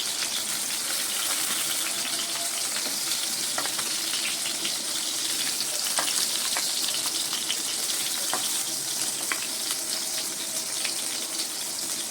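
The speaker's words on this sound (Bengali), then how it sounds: "তার জন্য ঢাকা দিয়ে দিয়ে ভাজবো ঢাকা দিয়ে ভাজলে ভাজাও হয়ে যাবে সুন্দর করে" Sliced pointed gourd fries in oil in a covered pan, giving a steady, even sizzle that hisses without a break from start to finish, with small pops and crackles scattered through it.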